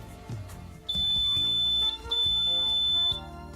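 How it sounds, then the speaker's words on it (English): A used Breadbox bread maker beeps as it is set up, a steady high electronic tone holding for about a second, breaking briefly, then sounding again, over a low room hum with no talking. "A lot of beeps going on."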